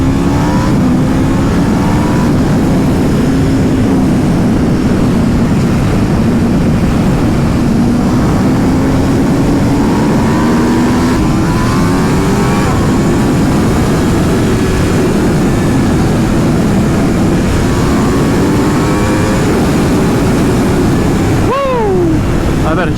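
An Aprilia RSV4 sport motorcycle fitted with a LeoVince Factory S exhaust roars while riding, a loud continuous engine note rising and falling through throttle changes with wind rush, and a sharp rev near the end.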